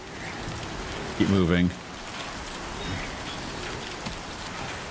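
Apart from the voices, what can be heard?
timefall rain falling in Death Stranding 2 video game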